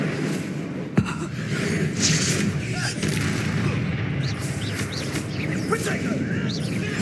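A fire spell is cast in the Hogwarts Legacy video game amid battle, heard as a sharp burst followed by a roaring, crackling layer of combat effects that continues throughout.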